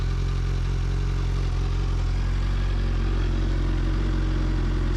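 A 2021 Suzuki Hayabusa motorcycle roars through its engine and exhaust, a loud, close, sustained rumble that holds steady across the clip with no voices over it.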